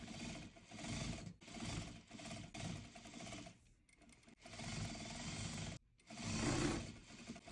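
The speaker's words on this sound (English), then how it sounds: "you're going to sew the sides and the bottom in place" A sewing machine stitches the sides and bottom of a towel tote bag, running in steady mechanical bursts with brief pauses between them, close and fairly quiet with no talking.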